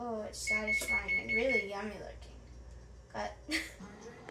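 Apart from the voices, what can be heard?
oven timer buzzer going off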